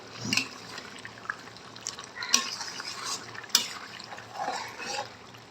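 A metal lid being lifted off a pot of chicken cooking with bean seeds and potatoes, a few sharp clinks and scrapes spaced apart over a quiet simmering background, with no voices.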